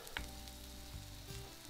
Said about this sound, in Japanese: あとはもう一度半量まで煮詰めて